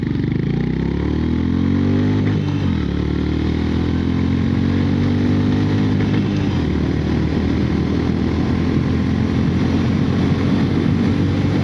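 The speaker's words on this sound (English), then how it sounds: "quick 0 to 60 test here, guys. Off we go." A 2025 Honda GB350 single-cylinder motorcycle pulls hard through a 0 to 60 acceleration run, its engine note climbing and dropping through gear changes, heard close with steady wind roar.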